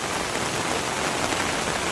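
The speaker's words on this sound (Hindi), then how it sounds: "बारिश एक पल को रुकी ही नहीं है।" Heavy rain pours steadily onto surfaces during a downpour in the Jim Corbett area, a dense continuous hiss with no let-up and no voices over the two seconds.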